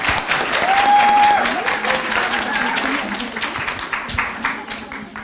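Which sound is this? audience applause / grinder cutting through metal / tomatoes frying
audience applause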